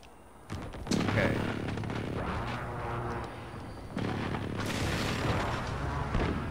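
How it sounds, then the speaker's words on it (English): Precision airstrike explosions in a video game: heavy, rumbling booms that roll on continuously, with a stronger blast around one second and another surge near four seconds, under a faint voice. "Be advised, friendly precision airstrike inbound."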